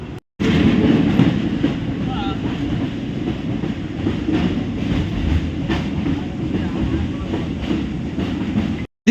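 A passenger train runs through the Sakleshpur ghat section, with a steady loud rumble and rattle of the carriages and faint clickety-clack heard from on board, continuous for several seconds.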